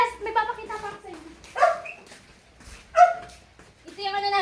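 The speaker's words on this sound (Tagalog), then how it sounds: "Tapos yung aso doon." A house dog barks a few times during a home tour, the short yelps standing out over and between nearby talking.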